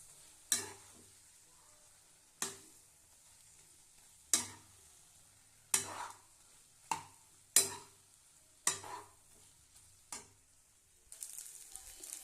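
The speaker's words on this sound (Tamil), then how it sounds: "இப்போ அப்படியே இப்போ கிளறி விட்டுக்கலாம்" Egg biryani with string hoppers being stirred in a pan, a spatula scraping and turning it in about nine separate strokes against a faint sizzle, close and with no talking.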